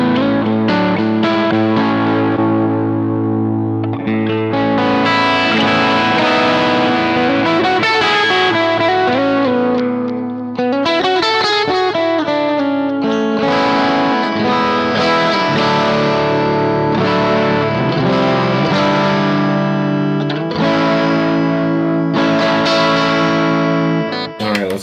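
Electric guitar played through the clean channel of a BluGuitar Amp 1 Mercury Edition, sustained chords and melodic runs ringing out loudly and continuously with chorus-like shimmer.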